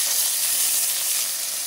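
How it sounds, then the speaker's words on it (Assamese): Pieces of fish fry in hot oil in a wok, giving a steady, close, bright sizzling hiss that continues evenly without pause and without any voices. "এতিয়া মই মাছ কিপিছ ইয়াতে ভাজি লম।"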